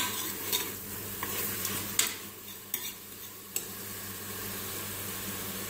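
Frozen mutton fries in ghee in a pan for arvi gosht, a steady near sizzle with a few sharp scrapes and knocks as it is stirred, no voices.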